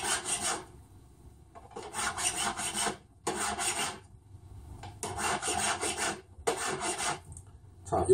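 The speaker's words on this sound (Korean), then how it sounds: "바깥쪽도 아주 곱게 전체적으로 돌아가면서 이렇게 줄 작업을" Hand file rasping over the outside of a flat metal ring at a jewelry bench, in five or six bursts of back-and-forth strokes separated by short pauses, close and fairly loud with no talking.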